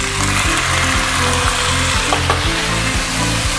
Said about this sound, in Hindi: चिकन डाल के उसे अच्छे से भून लें, उसकी सेयरिंग कर लें.